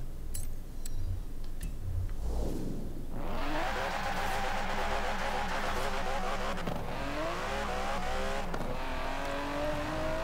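Car in Forza Horizon 4 with its final drive gear ratio shortened to the minimum, engine revving loudly and rising through gears with repeated pitch climbs and shift dips, steady and close throughout.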